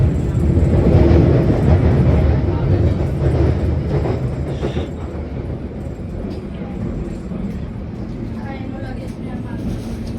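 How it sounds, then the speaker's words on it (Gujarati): A London Underground tube train rumbles along with continuous low roar and rattling, people talking over it inside the carriage. "કેવું લાગી ટ્યુબની જર્ની?"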